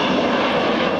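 Avro Vulcan XH558 jet bomber making a slow fly past at an airshow, a loud continuous roar of jet engines filling the air for a short steady stretch.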